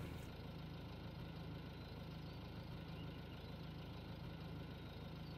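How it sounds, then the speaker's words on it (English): In the Cattle & Crops farming game, a farm vehicle's engine idles at a steady, even drone that stays unchanged and unbroken by speech. "engine starts."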